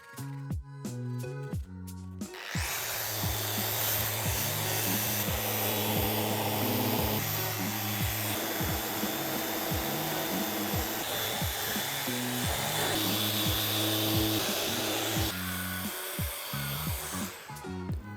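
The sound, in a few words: sanding wood surfaces with 80 grit sandpaper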